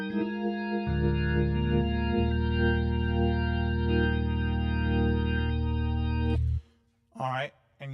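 A Model C organ simulator with several drawbars pulled out plays sustained, harmonic-rich chords with a slight touch of reverb and no chorus vibrato. The chords hold steady for about six seconds and then stop, followed by a brief spoken voice.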